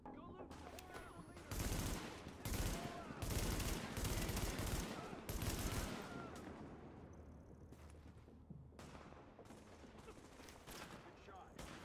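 Tom Clancy's The Division firefight: dense rattling automatic gunfire in sustained bursts, heaviest early then easing into scattered shots, with people talking over it.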